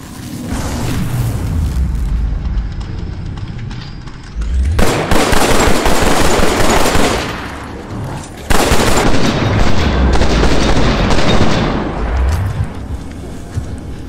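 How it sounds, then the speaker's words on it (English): Grenade blasts and gunfire in the VR shooter Killing Floor: Incursion, loud booming bursts hitting twice in close succession over continuous rumbling combat noise, with no talking. "Let's take this grenade, chuck it there."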